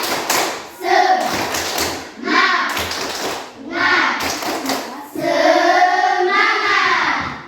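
A group of children claps a rhythmic spirit cheer in a classroom, bursts of sharp claps alternating with chanted voices in a steady pattern, loud and close, ending with sustained group shouting.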